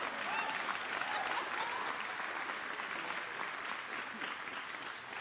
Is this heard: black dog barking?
no